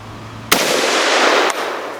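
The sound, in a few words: gunshot from a .308 7.62x51 NATO battle rifle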